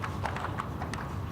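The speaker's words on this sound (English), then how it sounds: "He's got a pair of overreach boots on, and that's just making noise as the horse's front feet hit the ground." Show jumping horse fitted with overreach boots in an outdoor arena at a 1.45m competition, front hooves striking the ground in a quick irregular clip-clop with slapping boot sounds, moderately close over steady background noise.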